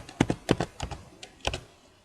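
A handful of keystrokes on a computer keyboard, close and fairly loud, tapped in a brief, irregular burst that trails off into quiet.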